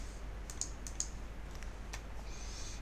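Quiet typing on a computer keyboard, entering a value: a handful of soft, scattered key clicks over a low steady hum, with no talking.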